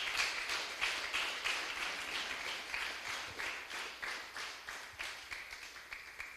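Faint, rhythmic clapping from a congregation at a Spanish-language church service, with the hands striking together in an even, repeated beat throughout.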